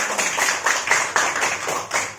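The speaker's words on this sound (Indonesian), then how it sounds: "Ya, tepuk tangan ya." A class of children clap their hands together in a maths lesson, a dense, close patter of many claps pulsing in a few bursts for a couple of seconds.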